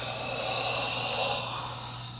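A slow, steady breath exhaled through the mouth during a calming qi gong exercise, a soft airy rush heard up close that lasts a couple of seconds and fades gently at the end.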